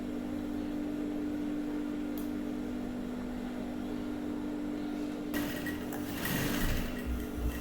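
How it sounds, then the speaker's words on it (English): Sewing machine stitching a corset onto the main fabric, a soft steady hum throughout, with a louder burst of clattering motion near the end. "Go ahead and stitch it down."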